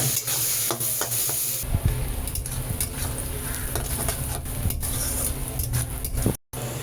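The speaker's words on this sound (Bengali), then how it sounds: "কাঁচা লঙ্কা আর পেঁয়াজটাকে তেলের মধ্যে নাড়িয়ে নিই। পেঁয়াজটাকে একটু লাল করে ভেজে নেব।" Green chillies and onions sizzle steadily in hot oil while a utensil stirs and scrapes the pan, a close, continuous frying hiss with occasional clinks, no voices.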